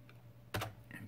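A computer keyboard is struck once hard, like the enter key, with a loud, close clack in the middle and faint key taps before and after.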